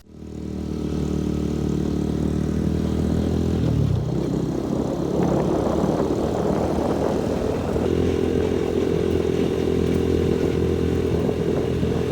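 A scooter rides through a desert national park campground area, its engine a steady, close, continuous drone with a shift in tone partway through and some clattering, without talk.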